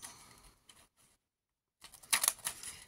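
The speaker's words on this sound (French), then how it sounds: "Avec mes ciseaux cranteurs qui ont des années." Old pinking scissors cutting diagonally through scrapbooking paper: a few light crisp snips, a short silent gap, then a louder burst of sharp clicky crunching cuts, close and quiet overall.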